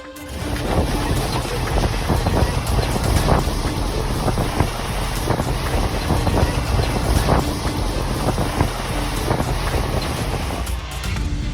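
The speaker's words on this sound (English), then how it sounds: "Can these coconut trees stand up to these crazy winds?" Extreme hurricane winds with top speeds over 235 and gusts over 385 lash coconut trees, a loud, continuous roaring rush with heavy buffeting against the microphone that holds steady throughout, no voices present.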